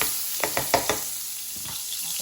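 Butter sizzling in a pan used just before for onion rings, a soft steady fry hiss with a few sharp clicks and taps near the start, close and alone.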